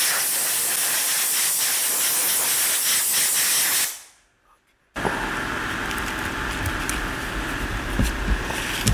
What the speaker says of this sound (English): now we're going to blow a little of the excess lubricant out of there